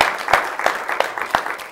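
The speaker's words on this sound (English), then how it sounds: "Can you give the Lord a hand clap of praise here tonight?" A church congregation claps in praise during a Sunday evening service, with a few distinct, evenly spaced hand claps standing out over a faint murmur of crowd noise.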